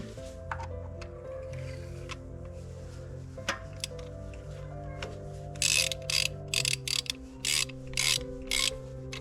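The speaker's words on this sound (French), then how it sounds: "j'ai une douille de 16 et j'ai un embout spécial qui vient dedans pour pouvoir bloquer la bougie et la ressortir" A socket wrench ratchet works on a spark plug in a Honda CR-V, giving close clicking and rasping pawl sounds in short irregular bursts, with some louder bright rattles near the end.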